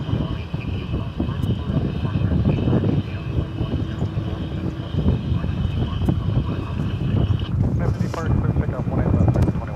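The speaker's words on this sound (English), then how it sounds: "It's an Airbus A320 flight 19, I want to say 71?" An Airbus A320 on flight 1971 at DFW gives a broad, steady engine roar with wind buffeting the microphone, and a commentator talks over it throughout.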